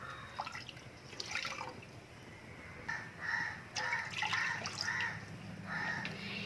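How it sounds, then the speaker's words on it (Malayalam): Milk poured into a bowl for a homemade cake batter, a liquid trickle with gurgling splashes that comes in several bursts over soft room noise. "നമുക്കിതിലേക്ക് പാല് ഒഴിച്ചു കൊടുക്കേണ്ടത്"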